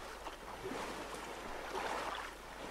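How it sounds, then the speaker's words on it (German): Boat being paddled across the open ocean in the survival game Stranded Deep, a soft continuous wash of water and paddle swishes at low level, with no talking. "paddeln wir uns mal auf den Weg dahin"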